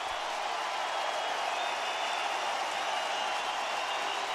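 Large baseball stadium crowd of over 25,000 on its feet during a Cleveland vs White Sox game, a steady, dense wash of applause and cheering, far-off and continuous without breaks.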